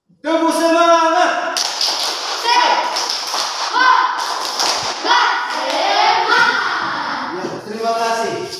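A primary school class of children chants a rhythmic spirit cheer together, with claps and thumps beating time under loud, close, continuous group voices.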